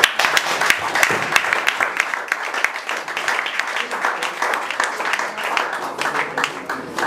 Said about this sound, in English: Dada deserves another special round of applause.